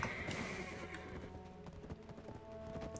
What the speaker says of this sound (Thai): เกวียนไม้เลยครับ เทียมม้าสองตัวแล้วก็นั่งลากกัน